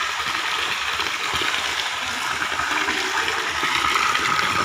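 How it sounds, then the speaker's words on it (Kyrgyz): Hot thermal spring water gushes steadily from an underground pipe, a dense, continuous rushing flow at close range with no voices. "Мына ушул турба аркылуу жердин түбүнөн чыккан суу экен."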